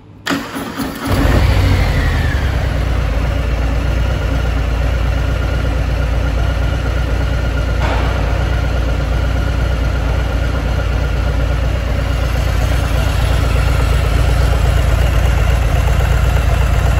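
A Harley-Davidson Milwaukee Eight 114 engine with its stock muffler starts up and settles into a steady, mellow idle with a low rumble, running alone without any talk.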